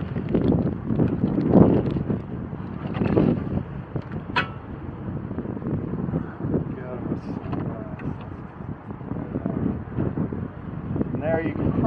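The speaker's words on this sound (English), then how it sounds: "And there you can probably hear the wind just picked up." Strong wind gusts roar across an open outdoor airgun range, buffeting the microphone in rough, uneven bursts, with someone talking over it.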